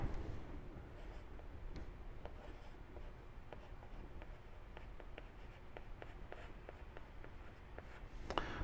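A pen or marker drawing a math diagram, the angle theta, for a trig problem. It sounds like faint, close scratchy strokes in short repeated bursts, alone and without talk.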